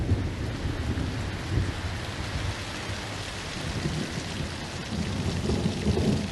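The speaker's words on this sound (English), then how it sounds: "The little rain that does fall in Death Valley often falls all at once." Heavy rain pours steadily in Death Valley while thunder rumbles low and deep throughout, a dense, continuous storm roar with no voices.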